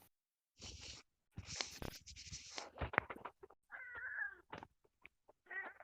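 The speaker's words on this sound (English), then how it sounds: "I hear a cat in the background." A cat in the background meows several times in drawn-out, wavering calls, with short gaps and scratchy rustling sounds between them, fairly close and clear.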